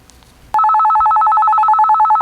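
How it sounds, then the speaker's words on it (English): A Retevis RT49P FRS walkie talkie sounds its call alert, a sharp electronic warbling tone that starts abruptly and trills on steadily and loudly for about two seconds after a brief quiet moment. "Now, Meg, if you hit this button right here, or just tap it once, it says call"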